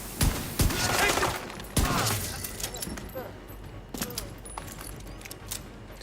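Rapid bursts of gunfire from The Division 2 Battle for Brooklyn, sharp repeated shots at the start and around the two- and four-second marks, then continuing mixed with game ambience and a voice talking over it.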